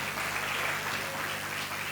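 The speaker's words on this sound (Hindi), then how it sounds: "ताली बजा के प्रभु को धन्यवाद दें" A church congregation claps hands in praise to the Lord, a steady wash of many hands applauding together at moderate distance, unbroken for a couple of seconds.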